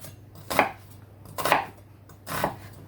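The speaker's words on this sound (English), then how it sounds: "What I'm going to do is cut into the onion as far up to the root as I can." A sharp knife cutting into an onion on a board, three distinct, evenly spaced crisp strokes close up, with quiet between them and no voices.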